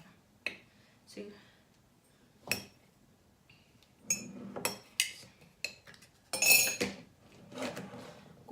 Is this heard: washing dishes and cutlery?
yes